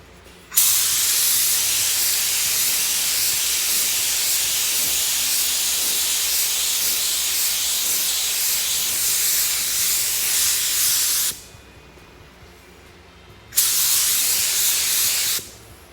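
A paint spray gun lays a coat over a fiberglass repair with a loud, continuous hiss, stops for a couple of seconds, then starts again in a second short burst.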